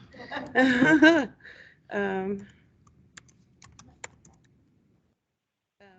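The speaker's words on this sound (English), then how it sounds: "I'm going to go ahead and put my email address in" A person types an email address on a computer keyboard with a bandaged finger, producing scattered, uneven key clicks after a brief stretch of talking.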